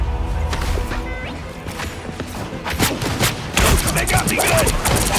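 Video-game gunfire rings out in rapid sharp cracks, with a dense volley of repeated shots toward the end, heard under shouted voices.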